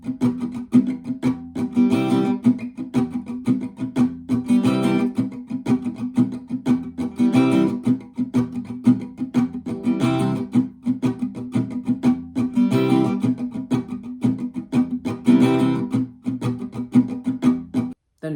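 Acoustic guitar strumming a C prime chord pattern from a song, mixing full ringing strokes with muted percussive hits in a steady repeating groove, close and even throughout, no talking.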